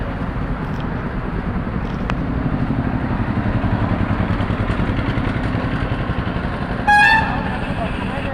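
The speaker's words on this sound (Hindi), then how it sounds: "ये खुद अपनी बाइक्स पर जा रहे हैं" Motorcycles ridden along a road toward Rajasthan make a continuous loud engine drone with traffic noise, and a horn toots near the end while people talk.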